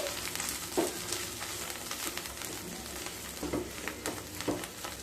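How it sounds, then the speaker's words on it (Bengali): Cauliflower leaf paste with mustard oil is stirred in a hot pan. A steady sizzle runs throughout, and occasional scrapes and knocks from the stirring utensil sound close by. "আবারও খুব ভালোভাবে মিশিয়ে নিচ্ছি"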